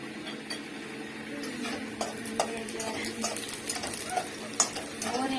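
Macaroni fries in a pan while a utensil stirs it, giving sharp scraping clicks over a steady close sizzle.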